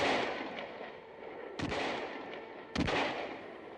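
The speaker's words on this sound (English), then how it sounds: "I took out my rifle from its case. I began firing to slow the green warriors." Two sharp rifle shots ring out about a second apart over a continuous noisy background, punctuating a war scene of firing at charging green warriors on Mars; no one speaks.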